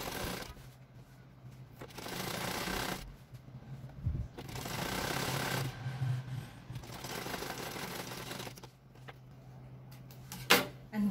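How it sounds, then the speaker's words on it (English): Home sewing machine stitching a standard-size pillowcase, running in several bursts of steady mechanical whirring separated by short pauses and faint handling noises, close and moderately loud. "and you'll be sewing on your sewing machine"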